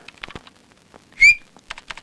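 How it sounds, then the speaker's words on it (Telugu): A single short, bright whistle rings out clearly amid scattered small clicks and rustles, then quiet handling noises follow. "విజిల్ దెబ్బ ఎలా ఉందిరా?"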